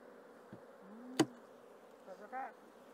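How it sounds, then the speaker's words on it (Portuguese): Honey bees from a very defensive but productive colony buzz faintly at an opened hive, with a few sharp knocks and brief low handling noises over the steady hum. "Já abre a tampa aqui, muita abelha"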